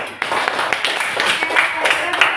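A school class claps for a classmate, a short burst of scattered, close hand claps with a voice talking over it.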